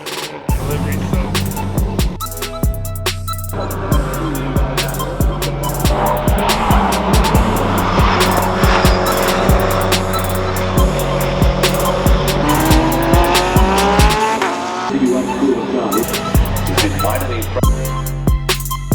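Toyota GR Cup race cars at the Sonoma racetrack roar loudly and continuously, with engines revving and shifting through gears, tires squealing, and several cars passing close by.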